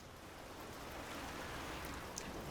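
Steady rain falls in the video game Bioshock Infinite, a continuous even hiss of drops on surfaces with no talk, loud and close throughout.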